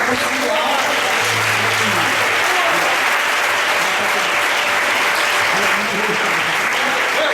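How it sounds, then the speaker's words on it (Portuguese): A church congregation applauds loudly and steadily, a dense wall of clapping from a large crowd that continues throughout, with a voice faintly heard beneath it. "Jesus. Aplauda forte."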